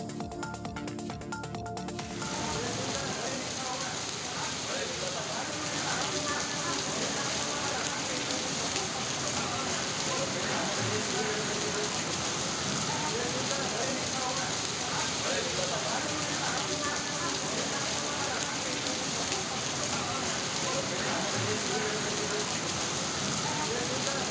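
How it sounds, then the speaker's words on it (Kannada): Heavy rain falls in Hosapete, Karnataka, a dense, steady hiss of drops on surfaces that runs unbroken throughout at moderate level; no distinct thunderclap stands out. "ಹೊಸಪೇಟೆ ಸೇರಿದಂತೆ ಗ್ರಾಮೀಣ ಭಾಗದಲ್ಲಿಯೂ ಗುಡುಗು ಸಹಿತ ಭಾರೀ ಮಳೆಯಾಗಿದೆ"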